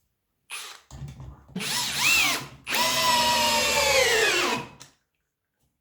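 Parkside power drill in drilling mode, fitted with a socket bit and driving screws: two bursts of loud whirring motor with rising and falling pitch, the second longer and steady, then stopping.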